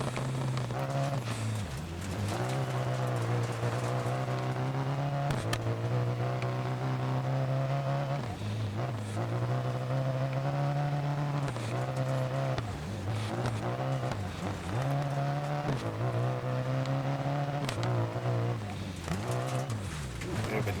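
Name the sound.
rally car engine revving, from video game Dirt Rally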